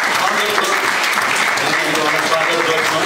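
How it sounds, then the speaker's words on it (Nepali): Church congregation applauding to welcome a newcomer, a steady, dense wash of clapping hands filling the room for the full stretch, with some voices mixed underneath. "हाम्रो नानी तुलसीलाई जोरदार ताली बजाउँ।"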